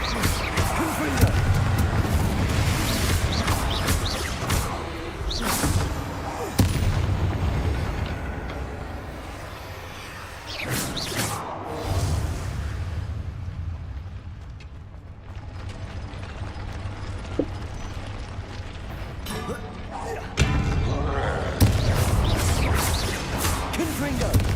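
Confringo spell explosions in the video game Hogwarts Legacy, a string of loud crashing blasts repeating over busy game noise, with a voice calling out between them.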